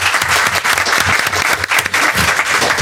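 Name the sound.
audience applause for the speakers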